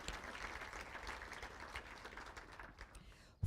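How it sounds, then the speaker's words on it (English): Steady applause from an audience at a student production awards ceremony, a dense even patter of many hands clapping throughout, fairly loud and sustained with no break. "please give them a round of applause"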